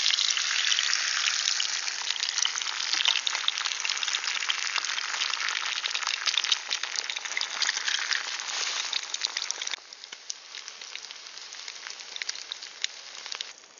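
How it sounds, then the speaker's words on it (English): Sausages sizzle and spit in a pan on an Osprey BCB gas field stove, a loud, dense frying hiss that drops to a quieter, steadier crackle after about ten seconds. "You get the sausages half cooked."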